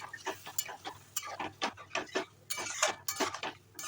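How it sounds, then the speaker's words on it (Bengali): Potatoes being mixed with spices in a metal pan make a quick run of irregular clinks and scrapes, a spoon striking and dragging along the pan at close range with brief pauses between strokes. "আর আমি এখন মশলার সঙ্গে ভালো করে আলুটা মিশিয়ে নিচ্ছি।"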